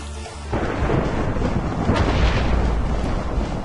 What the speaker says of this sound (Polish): Gdzieś tu piorun walnął.